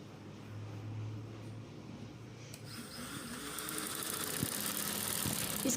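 A sewing machine stitches a folded shalwar hem. A low motor hum starts quietly, then swells into a steady, whirring run that grows louder toward the end.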